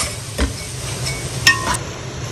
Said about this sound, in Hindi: ये देखिए प्याज हमारा फ्राई हो रहा है